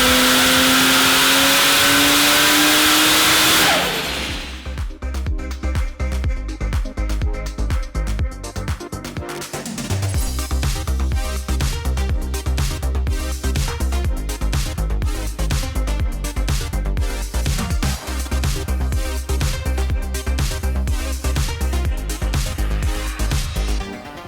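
A Barra-powered Holden engine, a loud broadband rush that drops away into a low, steady rumble after a few seconds, then a lumpy, throbbing idle that rises in level partway through and holds close and strong.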